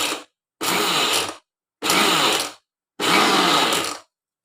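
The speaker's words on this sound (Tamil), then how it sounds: "மிக்சியில் வச்சு விப்பர் மோடில் விட்டு விட்டு அரைக்கணும்" Mixer grinder pulsed on wiper mode while grinding urad dal, four separate loud whirring bursts of about a second each, split by short silent gaps, close and alone.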